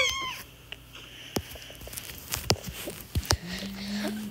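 A cat meows near a child's playset indoors, a few short cries with soft taps and rustles between, fairly quiet and close, alone without talk.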